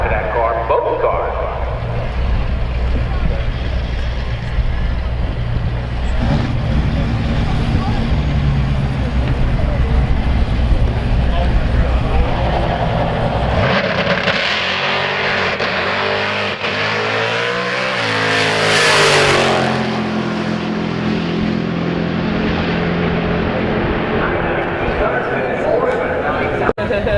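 A Corvette convertible fitted with rear slicks roars at a drag strip alongside another car, a loud sustained engine drone with a rising rev surge midway, while a commentator talks throughout.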